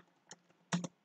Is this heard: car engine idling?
no